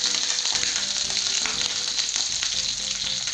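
Small stuffed quails sear in a pan of melted fat, giving a steady, close, bright sizzle with occasional crackles and pops throughout.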